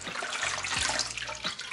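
Water runs from a tap into a sink as flour dough is washed to make seitan, a steady splashing hiss with a few low sloshes of the dough being worked, fairly close and without speech.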